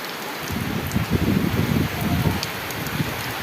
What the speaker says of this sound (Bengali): বাতাস আর বৃষ্টি